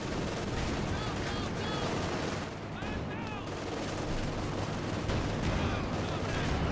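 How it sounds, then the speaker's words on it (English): Dense video-game battle gunfire from an IL-2 attack plane making strafing runs, rapid automatic bursts and impacts layered under constant fire with a voice talking over it. "And here comes this IL-2 attacks, just far enough away from his opponent's base that, you know, going to get at least a couple of gun runs out"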